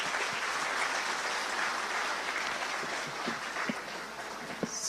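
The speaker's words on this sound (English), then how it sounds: "A round of applause, please, for the panelists." Applause for the panelists fills a conference room after a climate finance panel, a steady, moderately loud patter of many hands clapping with no voices over it.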